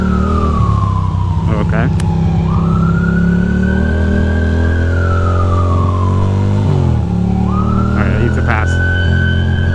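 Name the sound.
ambulance siren heard while riding a Ducati in rain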